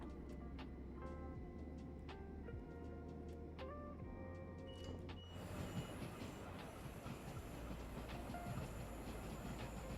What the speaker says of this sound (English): I can hear an underground train.